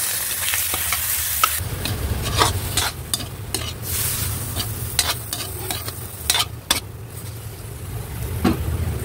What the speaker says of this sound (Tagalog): kaya ilagay na natin guys yung ating mantika